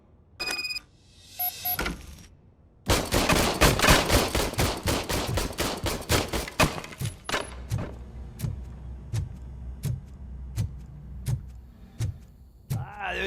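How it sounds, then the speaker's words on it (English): An old service gun fires in Robocop Rogue City, a few scattered shots and then a rapid burst of loud, evenly spaced gunfire, followed by slower single shots with metallic ringing and casing clinks. "I was issued this old gun and serviced it according to the manual. I will try it out."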